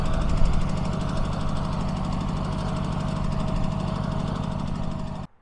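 Small Italian Lamborghini tractor engine running steadily up close, a loud, rough, rapidly knocking chug that holds an even rhythm for about five seconds before cutting off abruptly.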